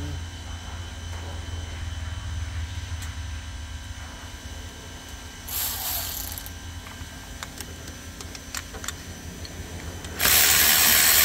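A ratchet with an extension works on a timing cover bolt of a Mercedes S550 W222 with the M278 engine, giving faint intermittent clicking, a brief louder burst midway and a loud rattling burst near the end.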